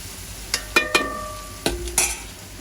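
Food sautéing in a pan for a home-cooked lunch, with a soft sizzle beneath five sharp clinks of a spoon scraping and stirring against the metal pan, spaced irregularly, close and alone with no voices.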